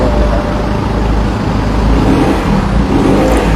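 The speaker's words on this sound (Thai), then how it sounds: "เปิดเสียงเครื่องให้นะครับ" A car engine runs loudly up close, a deep, continuous rumble that holds fairly steady throughout, in a used-car showroom.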